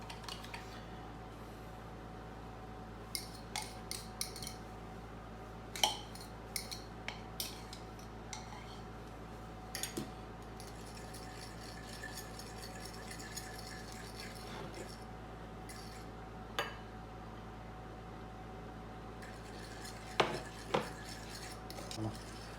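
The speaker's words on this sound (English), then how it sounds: "So now I will mix the ingredients together." Melted butter, beaten egg and milk mixed in a bowl: a utensil repeatedly clinks and scrapes against the dish in irregular bursts, close and fairly quiet over a low steady hum.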